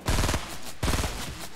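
Rapid automatic gunfire from a shooter video game, two loud bursts of fast repeated shots separated by a brief pause, close and dominant.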